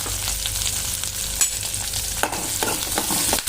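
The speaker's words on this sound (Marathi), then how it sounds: "एक मिरची थोडीशी भाजल्यानंतर हा कांदा टाकून घेऊया।" Chopped onion hitting hot oil beside a lightly roasted green chili for a raw tomato chutney, sizzling and frying steadily with intermittent stirring scrapes in the pan, close and continuous.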